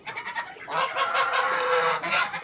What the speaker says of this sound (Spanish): Ese gallo está bonito.